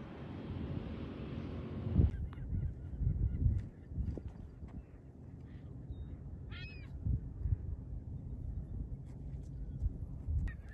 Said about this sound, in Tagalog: Naririnig niyo yung mga huni ng mga ibon.